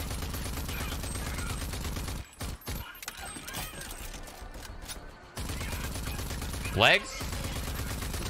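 Rapid gunfire from the shooter video game RAGE 2 rattles in loud, dense bursts, broken by short gaps, with a player's voice briefly heard.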